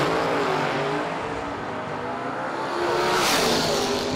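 Drag racing Corvette and COPO Camaro launching side by side down the strip, a loud, steady engine roar with a rising note, building toward the end.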